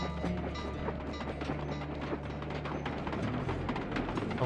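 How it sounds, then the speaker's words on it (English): A train rumbles past in the Sly Cooper: Band of Thieves video game, a continuous low mechanical roar with rattling clatter that holds steady throughout. "Well, this train is very inopportune."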